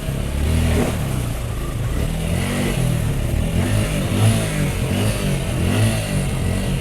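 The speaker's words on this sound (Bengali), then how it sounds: "বাইক বন্ধ হয়ে যাইতেছিল।" Motorcycle engine revving while pushing through deep floodwater on a street, a close, rough mid-pitched drone that rises and falls in uneven bursts with some clatter.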